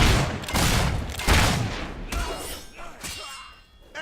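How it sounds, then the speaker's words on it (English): Gunfire in Fable III, a rapid volley of shots and impacts that runs for several seconds, loud at first, then fading into scattered clanging hits and debris. "Incoming fire!"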